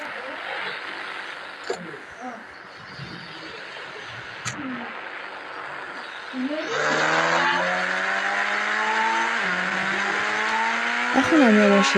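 A red car in the Indian Bike Driving 3D video game hums along, then its engine rises loudly with climbing revving tones and a couple of sharp knocks. A voice talks over the first half.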